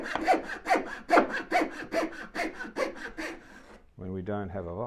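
A hand saw cuts through wood without a vise, giving a steady run of rhythmic rasping strokes, close and fairly loud, before it stops and a voice starts talking.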